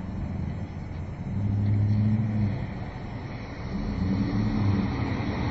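A new Chevrolet car rumbles through about a foot of street flood water, its engine droning steadily with two swells of low surging rush as the water washes around it, no talking.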